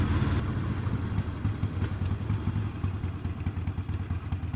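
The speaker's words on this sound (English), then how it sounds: "There's one or two bikes here." Motorcycles at a bikers cafe in Acton, a steady low engine rumble with rhythmic idling pulses and some clatter, fairly close and continuous throughout, no talking.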